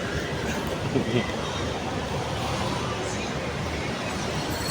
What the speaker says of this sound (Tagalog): Oh, sakay kami train oh.